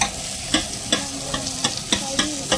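Onions frying in a pan on a home stove, stirred with a ladle: steady close sizzling broken by regular scraping strokes about every half second, with no voices.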